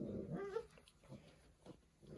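A Doberman puppy, one of a litter of eleven almost six weeks old, lets out a few soft, brief whimpers at night, faint and intermittent against quiet background noise.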